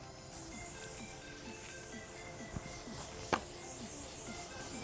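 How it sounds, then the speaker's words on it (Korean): Hairspray is sprayed over braided hair in a hair-styling session, a continuous close hiss running through the whole stretch with a few faint clicks and taps. "전체적으로 스프레이 한 번만 뿌려줄게요"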